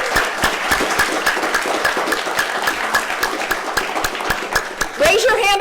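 A church congregation claps in a steady round of applause, a dense patter of many hands filling a large room, with a voice cheering near the end.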